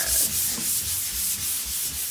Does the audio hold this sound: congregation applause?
no